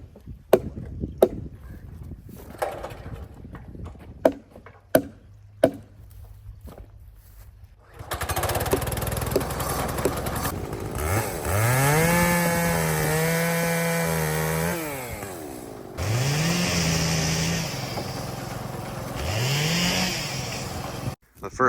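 A chainsaw cuts up a felled tree for firewood on a country homestead. Sharp, separate chopping knocks come first, then the saw engine drones steadily and loud, its pitch climbing and dropping as it revs through the cut.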